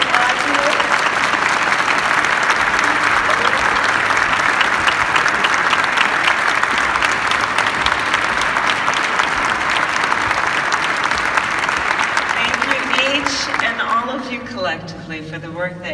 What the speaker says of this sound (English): So we can applaud you.